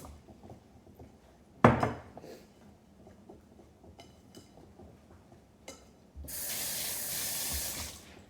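Cold tap water runs from a faucet to fill measuring cups in a kitchen, a steady hissing stream near the end after quiet clinks and one sharp knock.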